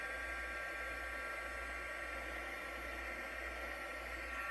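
A heat tool blows continuously while melting embossing powder on a card, a steady close whooshing hum with a low motor drone, unchanging throughout.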